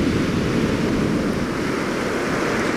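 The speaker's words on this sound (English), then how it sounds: "Not a big wave, but a big push of water." Winter sea waves roll onto a beach in a steady, loud wash of surf with no breaks, mixed with wind buffeting the microphone.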